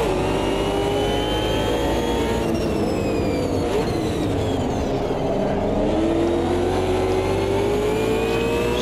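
A DTM race car in Automobilista 2 holds a loud, continuous engine howl, rising and falling in pitch as it accelerates, shifts and brakes through corners, with no talking.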